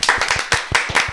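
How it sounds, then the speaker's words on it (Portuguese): Several hands clap together in quick, irregular bursts of loud, close applause during a podcast episode recorded in a studio, with no talking. "Esse episódio merece palmas."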